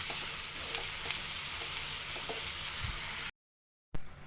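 Onions frying with turmeric and salt in a pan, a close, even hiss of sizzling oil that runs steadily, then cuts to silence briefly before resuming more quietly.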